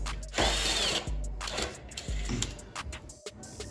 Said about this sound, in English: Now that we have our hole drilled,